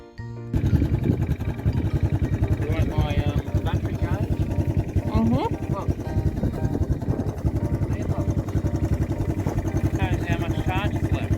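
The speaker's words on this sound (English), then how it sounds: "My brother-in-law down there with the quad bike." A quad bike engine runs nearby in the countryside with an even, pulsing drone throughout. A person talks over it.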